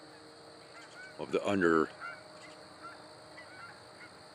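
A pair of geese honk as they fly overhead at sunrise, a brief cluster of clear calls from middle distance over a quiet outdoor background, with a few faint words spoken.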